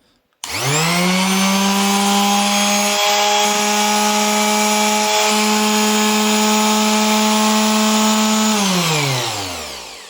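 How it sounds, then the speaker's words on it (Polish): A loud TOPSHAK TS-SD6 electric oscillating sander starts abruptly, runs with a steady high-pitched motor whine for about eight seconds, then winds down. "to może teraz sobie posłuchajmy, jak ta szlifierka pracuje"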